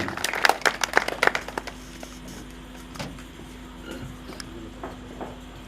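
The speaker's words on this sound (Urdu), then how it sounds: "دوستوں دیاں بھرپور تالیاں" A short burst of close hand clapping from friends welcoming a guest at an Eid gathering. It is loud for the first second or so, then thins to a few scattered claps over quiet room noise.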